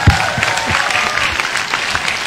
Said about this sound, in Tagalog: Kaya lakas-lakasan yung palakpak niyo.